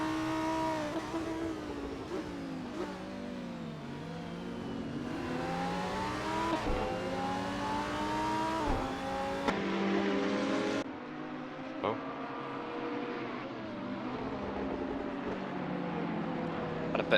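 GT championship race cars at the Red Bull Ring in a racing video game, engines revving and rising and falling in pitch as they run side by side, under steady commentary.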